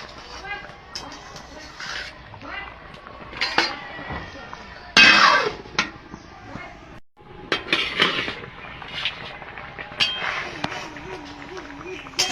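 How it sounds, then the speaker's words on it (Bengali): A pot lid is lifted and paneer curry is stirred, with scattered clinks and scrapes of metal utensils against cookware amid kitchen handling noise and a voice talking nearby. "ঢাকনাটা তুলে আমি একটু নাড়িয়ে দেব।"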